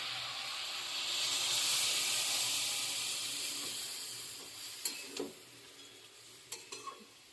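Water poured into a pan of frying fish fins brings a loud, steady hiss and sizzle that swells and slowly fades, followed by a few sharp clinks and stirring scrapes near the end.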